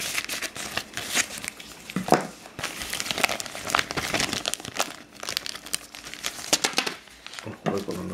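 Plastic packaging holding a commemorative 25-ruble Sochi coin crinkles and rustles in repeated close bursts as it is shaken and unwrapped, with a person talking over it.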